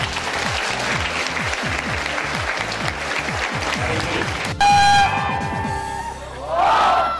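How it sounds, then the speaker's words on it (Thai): Loud, dense audience applause fills a Thai TV show studio, with whoops and cheers mixed in; music and voices cut in partway through, then the clapping swells again. "คุณทุกคนครับปรบมือให้กับตัวเองครับ"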